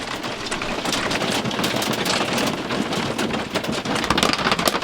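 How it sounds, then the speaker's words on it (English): Heavy hail pelts a truck camper in a relentless, close drumming of sharp ice strikes, loud and continuous with dense clatter throughout and nobody speaking. "Look at all this hail."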